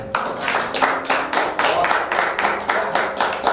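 An audience at a regional anti-corruption day talk event in Wonosobo claps in rhythmic unison, about eight strong, evenly spaced beats close and loud, with faint voices beneath.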